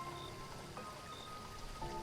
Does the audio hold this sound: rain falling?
yes